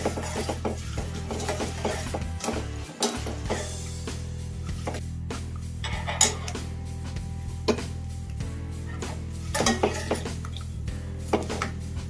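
Peanuts roast in a pan, rattling and clicking against the metal in an uneven, close run of small knocks and scrapes, with no talking.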